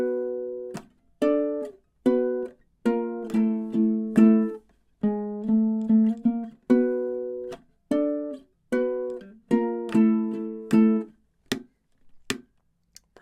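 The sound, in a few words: ukulele playing a song's bridge, measures 9 to 12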